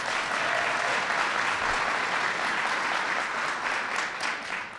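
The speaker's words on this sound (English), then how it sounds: "Let's give Mark a round of applause." A crowd at a political campaign launch gives a round of applause for a state controller, steady close clapping filling the whole stretch with no pause.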